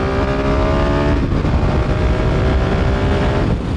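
A KTM 690 SMC R single-cylinder supermoto motorcycle accelerates hard at full throttle, its loud, close engine roar holding steady and strong through the whole stretch with no talking.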